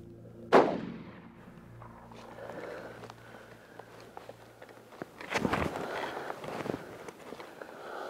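A single sharp rifle shot cracks out on a South African hunting safari, close and loud, and fades into quiet bush with soft rustling and footsteps afterward.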